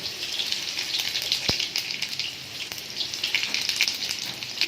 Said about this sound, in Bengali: তেল দেওয়ার পর এর মধ্যে দেব গোটা জিরে